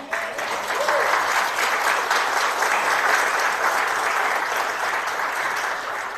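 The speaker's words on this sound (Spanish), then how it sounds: "Eso se merece un aplauso del Señor" Sustained applause from a crowd, steady and loud throughout, with dense clapping and no voices standing out.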